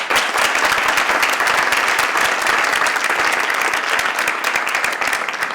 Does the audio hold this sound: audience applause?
yes